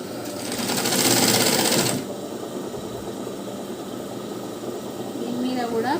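A sewing machine stitches a blouse lining in a fast, loud whirring burst for about two seconds, then stops, leaving a quieter hum in the room.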